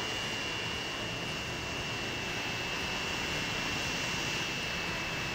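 A Boeing jet airliner in the Transport Fever 2 game roars with a loud, continuous jet-engine drone and hiss that holds steady at close range throughout.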